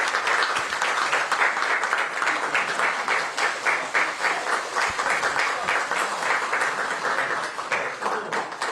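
Steady applause fills a Democratic Party supreme council meeting room after a central party spokesperson is appointed, an even wash of clapping at moderate distance that holds throughout.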